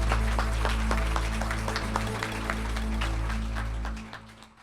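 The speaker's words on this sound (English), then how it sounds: "Let's give our panelists a round of applause" Audience applause for a panel at a home energy efficiency financing symposium: a steady patter of many hands clapping at moderate distance for several seconds, with a low electrical hum underneath, before it thins out and fades at the end.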